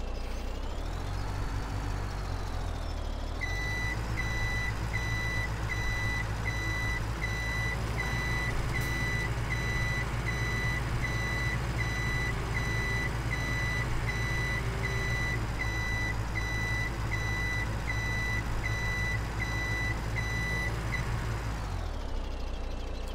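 Truck reversing alarm in a video game: a steady, evenly spaced series of beeps repeats for about eighteen seconds over a constant low engine rumble, then stops while the engine keeps running.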